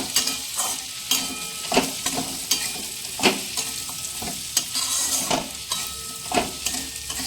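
Sugar stirred into hot ghee in a pan while making fried rice, a steady close sizzle broken by repeated scraping strokes of a spoon, with no talk.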